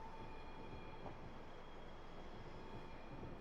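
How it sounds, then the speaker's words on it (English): A train leaving a station on the Portsmouth Direct Line, a faint, steady distant rumble with a thin high whine and no voices. "There's the train leaving."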